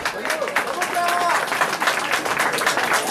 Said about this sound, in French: On l'applaudit aussi, Clara.